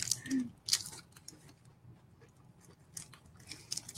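Crunchy UK candy treat being chewed up close, with intermittent crisp crunching and biting clicks in irregular bursts, a brief voice sound at the start.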